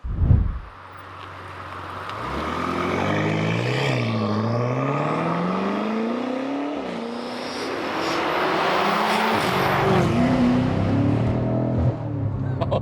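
An 800 bhp BMW F90 M5 fires up with a sharp bark, then settles into a droning idle before pulling away, the engine note rising and falling through gear changes as it drives off, loud and close.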